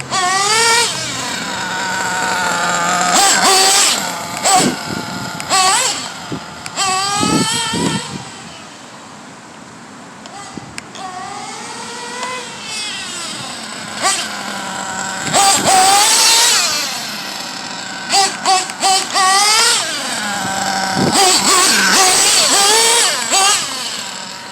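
Pico P3 motorcycle engine revving in bursts during break-in, with rising and falling pitch sweeps and several loud peaks, fairly close, with a person talking in between.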